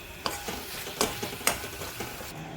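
Ginger-garlic paste masala for chicken sautéed in a pan, a soft sizzle under a run of spoon scrapes and taps against the pan, several distinct strokes in quick succession.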